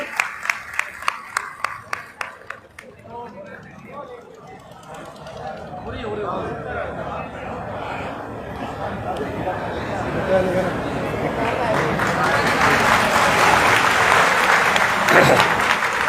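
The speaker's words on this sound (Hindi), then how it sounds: "आप उनका जोरदार तालियों से स्वागत कर रहे हैं यादव जी" A political rally crowd breaks into loud applause for a new party member: a few sharp claps at first, then sustained clapping that swells and grows louder, with voices over it.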